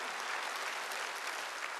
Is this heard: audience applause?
yes